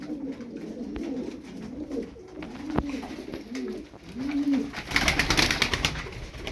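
Several pigeons, kept tumbler birds, coo in low repeated rolling phrases close by, with a brief rustle and flutter of wings near the end.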